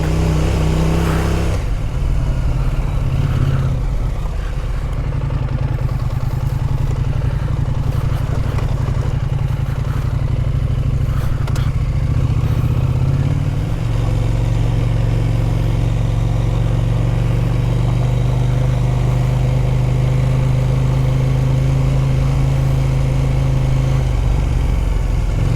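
KTM 890 Adventure motorcycle riding along a sandy road, its engine a steady loud drone with a shifting pitch, heavy wind and rumble, rising in tone about halfway through, with no talk.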